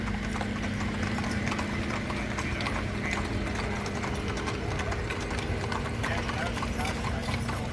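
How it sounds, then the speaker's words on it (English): Many horses clip-clop steadily along a wagon train parade in Chatsworth, Georgia, a dense, continuous patter of hooves on pavement with a low engine hum and crowd murmur underneath. "You get to see a bunch of horses and ladies and gents riding around on horses and carrying their banners and flags."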